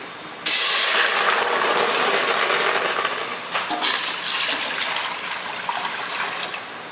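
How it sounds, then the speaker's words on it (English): Vinegar and then milk are poured quickly into a hot pan while making cheese, producing a loud, steady rushing pour that begins abruptly and runs for several seconds before easing slightly. "pour the vinegar quickly and then immediately the milk"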